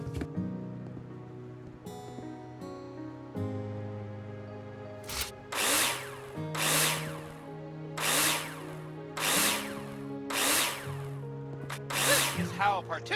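Power tool driving screws to fix plasterboard in the Builder Simulator video game, with several short whirring bursts in a steady rhythm after a stretch of tonal game sounds.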